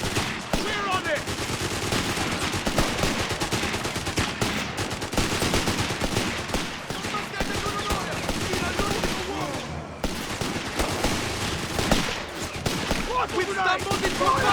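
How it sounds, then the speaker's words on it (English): Gunfire in a firefight in the video game Company of Heroes 3: dense, continuous machine-gun bursts and rifle shots with battle noise, shouted soldier voices now and then over the shooting. "We've stumbled into a firefight here!"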